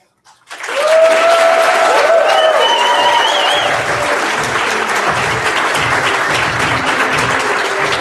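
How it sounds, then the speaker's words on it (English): Applause from a youth slam poetry bout crowd bursts in suddenly and stays loud and dense for the rest of the clip, mixed with cheering and whoops, while a voice talks underneath. "All right, keep those applause going for Elkhorn."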